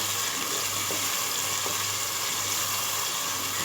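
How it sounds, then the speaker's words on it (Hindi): Beef and yogurt frying in a pot for aloo gosht, a steady close sizzle with broadband hiss running unbroken throughout, with no talking. "अब दही डालकर हम इसकी भुनाई करेंगे,"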